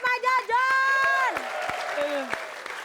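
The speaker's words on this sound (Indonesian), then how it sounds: "Kita kasih tepuk tangan buat Bang Mali, Pak Borat dan juga Pak Jojon." Studio audience applauding and clapping for comedians Bang Mali, Pak Borat and Pak Jojon on an Indonesian TV comedy show, a steady burst of crowd applause with sharp claps, mixed with voices and musical tones.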